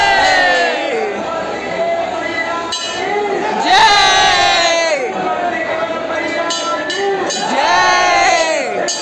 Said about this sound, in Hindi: आज देख सकते हैं लोगों का कितना भीड़ है